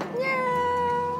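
Cat meowing, a single clear drawn-out meow, close and fairly loud, with no talking over it.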